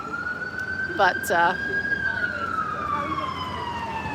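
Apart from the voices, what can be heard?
emergency vehicle sirens in the city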